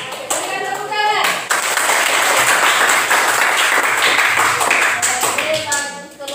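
A classroom group receives applause after reading a lyric poem aloud, sustained clapping from many hands filling the room at close range for several seconds, with voices chattering underneath.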